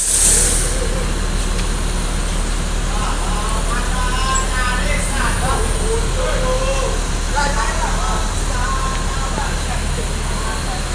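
A PT Rapi intercity bus idles and rumbles close by on an Indonesian road, with short hisses of air brakes and other traffic noise, while someone talks over the engine throughout.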